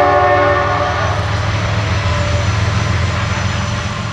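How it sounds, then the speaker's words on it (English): A Norfolk Southern freight train rolls past close by, loud and continuous. Its horn sounds as a sustained chord at the start, then fades while the rumble of the passing cars carries on. "not one, but two Norfolk Southern trains came through"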